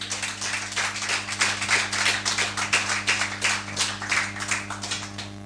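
A church congregation claps rhythmically together in praise of the Lord, a dense, steady burst of applause over a constant low hum, with no talking.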